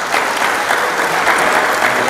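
A church congregation cheers and applauds for Jesus during a sermon, a loud, sustained wash of clapping and shouts that holds evenly throughout.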